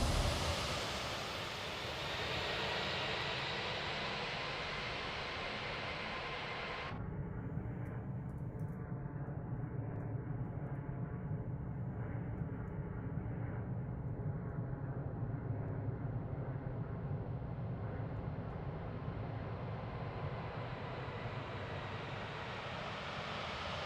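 Airplane engine in a flight simulator, a steady droning roar that is broad and loud at first, then drops to a lower, duller hum that continues evenly to the end, with no voices.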